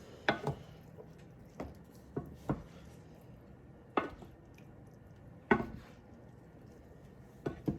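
Pasta with sausage and peas being mixed with salt and pepper in a pan, heard as a series of scattered, fairly close spoon clacks and soft squishy stirring strokes with quiet gaps between.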